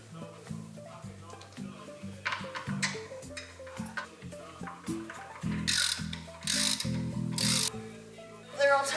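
A hand ratchet tightens lug nuts on a car's summer tire, giving quick runs of clicking pawl sounds in short bursts close by, with a voice talking faintly over them.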